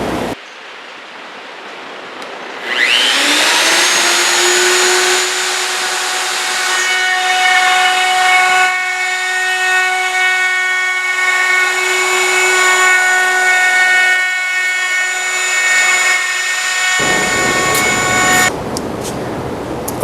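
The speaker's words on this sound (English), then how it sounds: "when I bring my router over, it's exactly positioned correctly" A router spins up to a loud, steady whine and cuts through wood for a Torah table, a close sustained roar with tonal overtones that holds for about fifteen seconds and then winds down.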